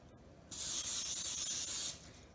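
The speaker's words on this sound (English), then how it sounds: "Then you'll spray your pan" A single sustained hiss of cooking spray onto a baking pan, about a second and a half long, close and steady, starting and stopping abruptly against a quiet background.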